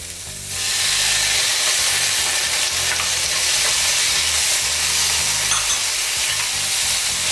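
Chopped tomatoes hit a hot pan of onions fried with ginger-garlic paste for a bread masala. A loud sizzle flares up at once and holds as a steady, close frying hiss with occasional stirring scrapes, and no talking.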